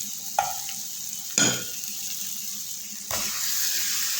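Cheese is stirred into a hot pan of spices and luncheon meat, giving a few scraping stirs over a low steady sizzle that rises slightly toward the end.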